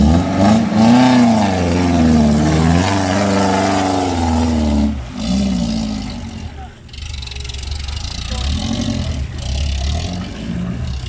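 A 4x4 rally vehicle on a route to a frozen lagoon accelerates hard in second gear at full throttle, its engine climbing loudly in pitch, dipping briefly at a shift, then pulling again close by while a voice talks over it.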